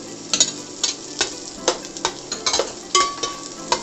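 Red onions and ginger sauté in a pan, a steady sizzle under repeated rhythmic scrapes and stirring clicks of a utensil against the pan.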